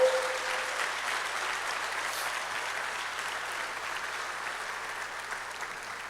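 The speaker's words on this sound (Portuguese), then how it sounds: "Dê um aplauso ao Senhor por isso, por favor." A church congregation applauds, a steady wash of many hands clapping that holds for several seconds and slowly eases off, with no talk over it.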